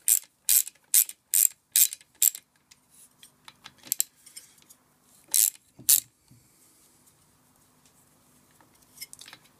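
A Torx driver ratchets as bolts are loosened on a McCulloch strimmer: quick bursts of loud, close clicking, then sparser, quieter ticks and handling noises.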